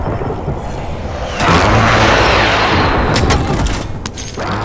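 A heavy airstrike in Call of Duty Modern Warfare Warzone lands as a loud, sustained rumbling barrage of explosions, followed by a few sharp cracking blasts near the end, with no talking.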